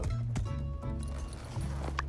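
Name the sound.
horse hooves, from video game My Time at Sandrock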